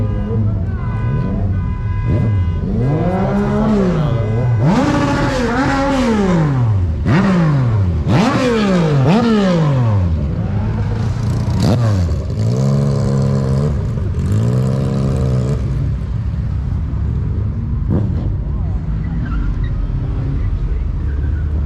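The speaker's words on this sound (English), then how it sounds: "You like the bike? That was very loud." A loud motorcycle passes close by, revving hard through a series of rising and falling gear shifts, near and dominant before fading into quieter traffic noise.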